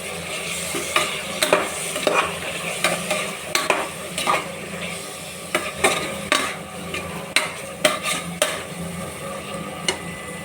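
Mixed legumes stirred into a sizzling vegetable biryani base in a pot, with loud, regular spoon scrapes and clanks against the metal over a steady fry hiss, close up and without voices.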